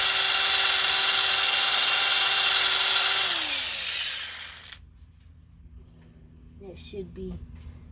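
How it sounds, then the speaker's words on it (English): A power drill runs loud and steady while drilling out a screw from a brake caliper during a brake and rotor job, its whine dropping in pitch before cutting off, followed by a quieter stretch with faint handling noises. "whenever you're having to drill a screw out"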